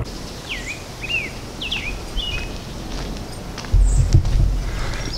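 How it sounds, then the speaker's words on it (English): Several bird calls ring out in a quiet outdoor setting, short whistled chirps spaced apart, with faint rustling and a louder thump of movement near the end. "Just listening to the birds"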